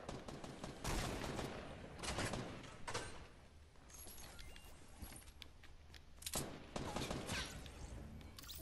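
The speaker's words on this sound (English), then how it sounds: "Was he shooting me with a shotgun?" Shotgun gunfire in the Fortnite battle royale video game: loud, sharp blasts in several bursts over a steady bed of game noise, with no talking.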